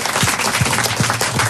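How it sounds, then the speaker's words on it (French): Applause breaks out for a colonel on a French talk show, a short, steady burst of clapping filling the moment at close range. "On peut l'applaudir."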